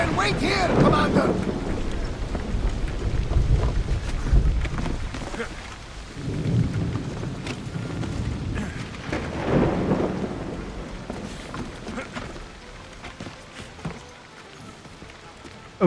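A thunderstorm in the video game Assassin's Creed Odyssey brings steady rain hiss with deep rumbles of thunder rolling through, while voices speak over the storm at times.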